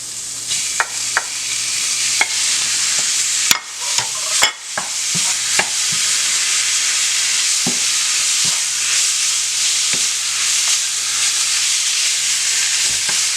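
Taco meat hits a hot pan and sizzles loudly, with a sharp burst of hissing and scraping stirs followed by a steady, close frying crackle that continues throughout.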